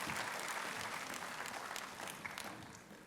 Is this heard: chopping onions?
no